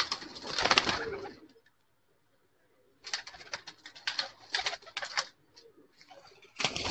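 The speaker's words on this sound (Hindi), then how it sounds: "ये जी मेरे 41 नंबर कबूतर हैं।" Teddy-type pigeons, a flock of 41-number birds, coo and rustle in busy bursts with a quiet gap between, close and fairly loud.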